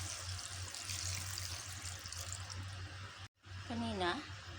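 Water rushes and splashes steadily into a pot for Filipino beef bone soup (nilagang baka), close and continuous, and a voice speaks near the end.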